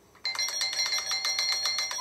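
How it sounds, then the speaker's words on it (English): A doorbell rings at night with a rapid string of bright, repeated electronic chimes starting abruptly and continuing evenly, loud and close, with no voices. "I'm just going to ring his doorbell"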